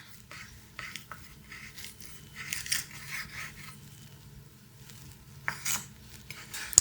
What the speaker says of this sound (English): I'm just going to keep cutting the steak using this technique until I get to the end